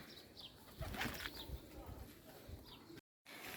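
Pigeons coo softly at intervals amid some rustling and faint background voices, with a brief silent gap near the end.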